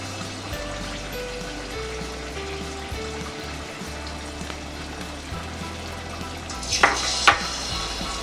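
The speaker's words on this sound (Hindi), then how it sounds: "चिकन को इस बैटर में हम डिप कर लेंगे और तेल हमारा गरम हो गया है। अब हम इसमें फ्राई कर लेंगे।" Batter-dipped chicken fries in hot oil for Chicken Manchurian, giving a steady, close sizzling hiss throughout, with a couple of brief utensil clinks near the end.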